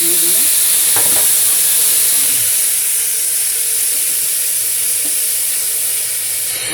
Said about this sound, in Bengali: ফুটছে, এই যে ফুটছে, দেখুন ধোয়া বেরোচ্ছে